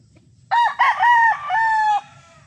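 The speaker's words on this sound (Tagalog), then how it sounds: "Gandang manok nito mga idol." A gamefarm rooster of derby size crows once, loud and close, a long multi-part call lasting about a second and a half over a faint low background hum.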